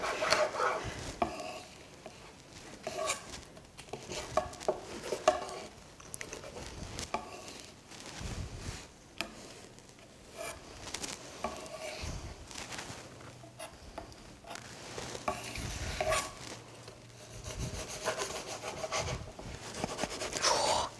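A knife slices a hot gluten-free quesadilla in half on a wooden board, producing soft repeated scraping and cutting strokes, quiet and close, with gentle pauses between them.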